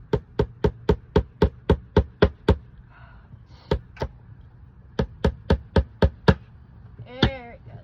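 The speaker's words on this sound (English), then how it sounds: "New plan. Hammer. I don't have any nails, so a screw." Sharp hard knocks in quick even bursts, a hammer striking a screw into plastic repeatedly, pausing briefly, then another rapid series, with a short grunt near the end.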